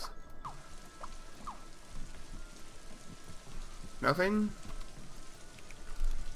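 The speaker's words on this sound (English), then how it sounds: "Let's just try regular rain." Steady game rain from Scribblenauts Unlimited hisses softly and continuously throughout, with a brief chirpy sweep of other game sound partway through and faint talk at times.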